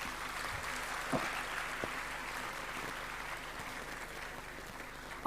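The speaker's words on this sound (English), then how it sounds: "I think they deserve a bigger round of applause, the students." An audience at a St. Joseph's High School presentation applauds the students, a sustained, even patter of many hands clapping at moderate loudness throughout, with no voices standing out.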